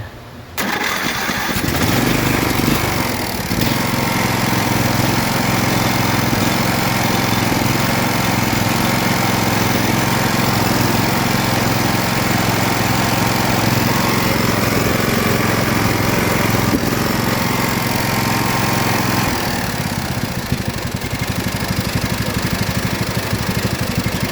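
A John Deere riding mower engine with its choke on cranks and catches, then runs at a loud, steady rumble close by for over twenty seconds.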